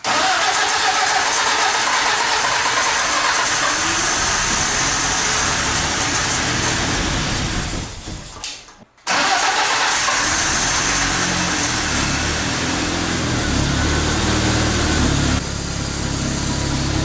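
An old, worn-out engine swapped into a beat-up car turns over and catches in deep cold around minus 40, then runs steadily at a loud, close idle with a brief cut-out partway through.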